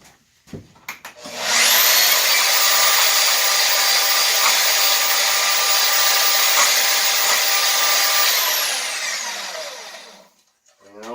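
A loud, steady mechanical whirring and grinding runs for about eight seconds as metal pins are removed from pin stock for knife handle scales, then winds down. No one speaks.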